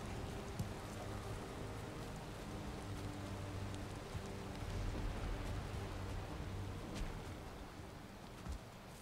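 Rain falling in the video game Valheim, a steady broadband hiss of rainfall that continues throughout at an even level, with no voices.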